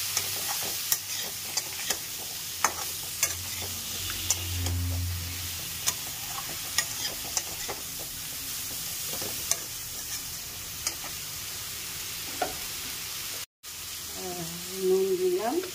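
Mixed vegetables with turmeric being stirred in a frying pan, a steady low sizzle with light clicking spatula taps scattered throughout, close and moderately quiet, with a brief voice near the end.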